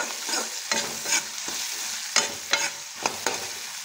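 Spices, turmeric powder and salt, being stirred into frying chickpeas in a pan for a turkey berry dish, with repeated scraping strokes of the spoon over a steady sizzle.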